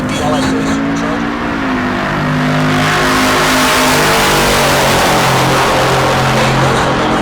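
Drag race cars launching, including a Volvo wagon with an LSA supercharger, at Heartland Park Topeka: a loud, sustained engine roar rising in pitch as they accelerate, with a commentator talking over it.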